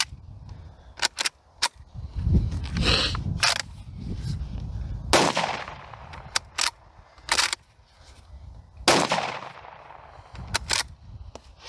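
A Ruger American rifle chambered in 7.62x39 fires Russian factory ammunition outdoors, giving a string of loud, sharp, unsuppressed shots at irregular intervals with some ringing between them.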